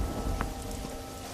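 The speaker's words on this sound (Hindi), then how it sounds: "ऊपर से ये बेमौसम की बारिश और शुरू कर दी" Unseasonal rain falls in a steady, even patter with no voices.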